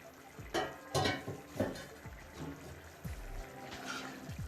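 Water is poured into a pot of simmering qeema lobia, minced meat with black-eyed peas, in a home kitchen: a few splashy pours and clinks of the pot, close and moderately loud, with no talking.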